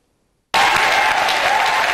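Crowd applauding loudly and steadily at an International Day of Persons with Disabilities event in Mai-Ndombe province, Congo, bursting in suddenly after half a second of silence and continuing without pause.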